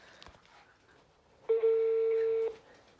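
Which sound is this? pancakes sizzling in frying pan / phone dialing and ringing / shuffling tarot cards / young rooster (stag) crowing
phone dialing and ringing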